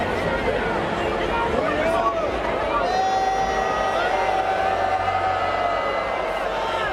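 At the US Open tennis, a packed crowd turns on climate protesters, with loud agitated voices, overlapping shouts and jeers forming a dense, continuous roar.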